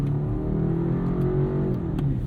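A 2024 BMW 530i xDrive G60 5 Series accelerates steadily, its engine droning with rising harmonics and a quick dip at each smooth gear shift, loud and close from the cabin with no talk.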